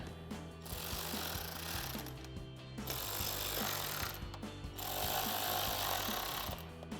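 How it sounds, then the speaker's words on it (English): A 7mm socket on a powered driver tightens screws into plastic threads while installing an LED upper grille on a 2024 Mustang GT. Loud, close, buzzing mechanical rattle runs in steady bursts with short pauses between them. "grab your 7mm socket and tighten all of them down"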